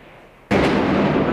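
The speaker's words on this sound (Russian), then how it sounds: "праздничный салют" Celebratory fireworks salute that bursts in suddenly after a quiet moment, turning into a loud, sustained crackling roar of explosions that carries on steadily with no voices.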